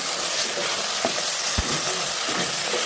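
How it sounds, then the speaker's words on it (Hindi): Mutton keema roasting in a pan just after yogurt has been added, a continuous close sizzle and hiss with a few soft scrapes and stirs. "दही डालने के बाद मैं फिर से इसकी भुनाई करूँगी"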